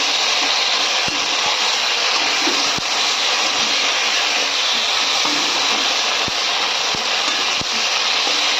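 Potatoes frying with added spices in a pan while being stirred, a steady loud broadband sizzle with occasional faint scrape clicks, no voices.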